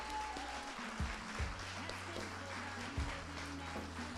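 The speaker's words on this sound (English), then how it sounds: "Let's give another round of applause to them." Applause at a Native fashion show celebration, quiet and distant, with scattered clapping under a low tonal hum and a few soft knocks.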